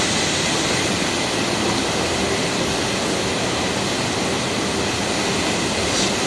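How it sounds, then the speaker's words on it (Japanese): A steady, dense roar of rushing water fills the whole clip, loud and unbroken, from the Misogi waterfall at a shrine in Mie, Japan, heard from close by. "ここがみそぎの滝ですね"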